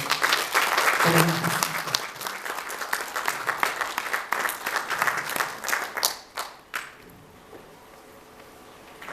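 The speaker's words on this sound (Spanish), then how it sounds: "Un aplauso, por favor." An audience at a Chilean talk on autism and inclusion applauds to welcome a speaker. The clapping is dense and fairly loud at first, then thins into scattered claps and dies away into quiet near the end.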